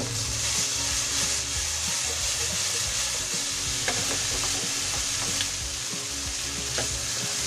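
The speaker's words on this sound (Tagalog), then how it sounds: "Pag naprito na po ang ating patatas at carrots" Potatoes and carrots sizzle and fry steadily in a pan beside a street, with occasional stirring clicks and faint background noise throughout.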